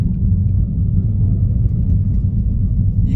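Low, steady engine rumble from a Volkswagen Golf Mk5 of about 140 horsepower while driving, heard from inside the car as a loud constant drone.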